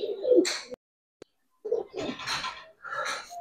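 A pair of old-line Giribaz pigeons coo up close in several throaty bursts separated by brief silences, with no talking over them.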